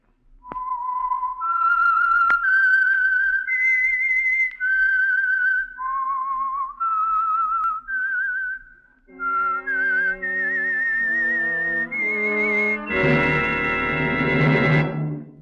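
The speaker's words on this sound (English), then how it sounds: "the signal to listen for is this whistle" A loud, clear whistled melody, the theme signal of the 1949 radio program The Whistler, a steady tune of held notes rising and falling, joined near the end by a full orchestral chord.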